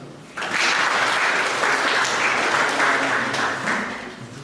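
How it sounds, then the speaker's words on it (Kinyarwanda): A crowd at a community discussion event in Burera claps for the children, a dense, steady applause rising sharply and sustaining for about four seconds before tapering slightly. "mwihe amashyi"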